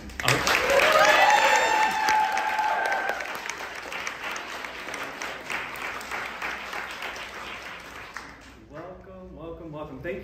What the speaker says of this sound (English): let's all get together, give a warm applause, and welcome Zach.